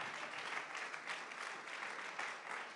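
A church congregation claps hands in praise to God during a Spanish-language evangelical service, a dense, steady wash of many hands clapping together, moderately distant and continuous, with faint voices mixed in.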